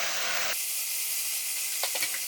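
Sauce hitting a hot pan of enoki mushrooms bursts into a loud hiss that quickly settles to a softer, steady sizzle, with a few small spatters near the end.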